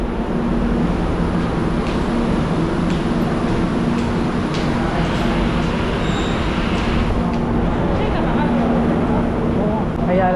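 An MRT metro train rumbles at a station in Makati, a loud, continuous roar with rail noise filling the space while people talk nearby.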